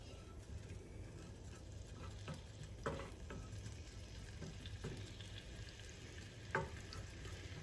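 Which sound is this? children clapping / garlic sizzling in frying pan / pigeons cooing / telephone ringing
garlic sizzling in frying pan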